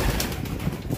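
Banded pigeon cooing softly in a short low burst amid faint background noise, no voices.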